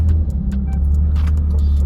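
A Toyota Supra on the road, heard from inside as a loud, steady low engine rumble with a deep drone throughout and a few faint clicks and rattles over it.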